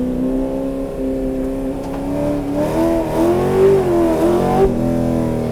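A 1960s Ford Mustang historic race car engine on track, droning loudly and then rising and wavering in pitch as it revs after a downshift to second gear, close and continuous.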